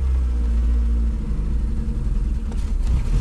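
A Volkswagen Golf 2 engine with a carburettor still being tuned runs close by, a rough steady idle with a low throbbing rumble, then a short rev near the end.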